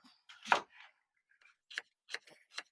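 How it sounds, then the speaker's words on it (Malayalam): Onions being chopped with a knife in a home kitchen: several sharp, close chops fall in an irregular rhythm, one loud strike followed by lighter cuts, with no talking. "സബോളയും കൂടി നമ്മളൊന്ന് അരിയാൻ പോവാണ്"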